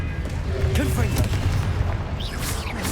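The Confringo blasting spell explodes in Hogwarts Legacy, heard as loud, dense booms and bursts layered over busy game effects and music that run steadily through the whole stretch.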